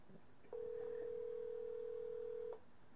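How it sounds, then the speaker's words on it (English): An Android cell phone rings from an incoming VoIP call, a single steady electronic tone holding for about two seconds in a quiet room, moderately loud and alone. "you'll hear my cell phone ring"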